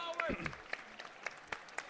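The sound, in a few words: crowd applause, standing ovation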